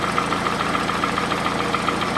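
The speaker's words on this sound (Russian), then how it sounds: "чтоб бензиновый мотор вот так работал, это просто ужас" A Toyota Camry 2AZ petrol engine running rough and knocking, a close, steady idle with a rapid, regular ticking knock repeating throughout.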